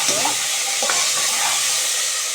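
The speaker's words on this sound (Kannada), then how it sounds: "ಆಮೇಲೆ ಸ್ವಲ್ಪ ಫ್ರೈ ಮಾಡ್ಕೋಬೇಕು" Tomatoes sizzle steadily in a hot pan while spinach sambar is being cooked, a bright continuous frying hiss with a few soft stirring scrapes and quiet clinks close by.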